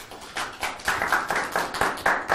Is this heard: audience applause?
yes